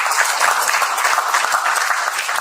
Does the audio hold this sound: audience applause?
yes